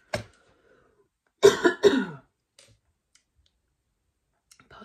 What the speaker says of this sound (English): I've got a tickly cough now